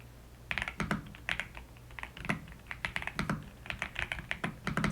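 Fast typing on an Attack Shark X85 mechanical keyboard produces a close, steady stream of crisp clacks and clicks in quick bursts, heard alone with no talking.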